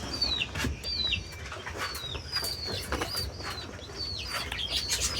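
Baghdadi pigeons coo repeatedly at close range, with soft wing flaps and rustles between the calls, in a steady rhythm over light background noise.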